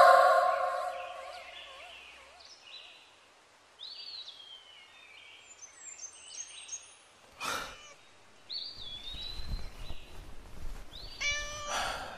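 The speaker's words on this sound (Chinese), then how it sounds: "你原来是只小母猫啊" A young female cat meows several times, with short, bending cries spread across a quiet stretch, followed by a sharp clatter and some rustling movement.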